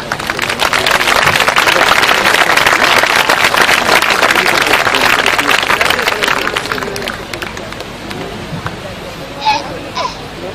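A large outdoor audience at a havaneres concert in Altafulla breaks into loud, dense applause that swells early and then thins out, with crowd chatter and a few voices surfacing near the end.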